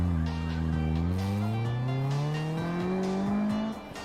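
Engines of cars in a video game race rise steadily in pitch as they accelerate, several revving together up close with a faint tire squeal, then drop off sharply at the end.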